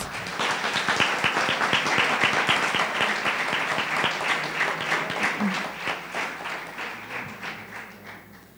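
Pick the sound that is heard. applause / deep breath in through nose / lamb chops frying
applause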